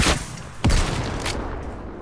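Rocket launcher fire and explosions in Fortnite, two sharp booming blasts about half a second apart, loud and near, followed by a rumbling decay.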